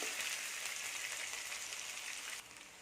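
Onions and green chillies sautéing in a pan, a steady bright sizzle that holds evenly close up, then drops slightly quieter near the end.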